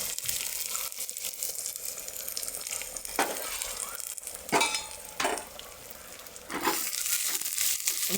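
Popped mustard seeds, coconut pieces, onion and curry leaves sizzle and crackle steadily in hot oil, with occasional louder bursts of spattering and stirring scrapes, no talking.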